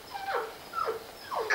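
A collie puppy whimpers nearby in three short, rising-and-falling whines, each separated by brief pauses and heard without any talk.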